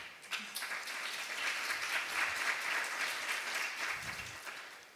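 Sustained applause from a conference audience at an international development aid event in Seoul, a steady dense patter of many hands clapping at even loudness throughout, tapering slightly at the end.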